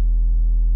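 A low sine tone in Ableton, digitally clipped at its peaks, holds steady and loud for under a second, with a buzzy edge from added harmonics.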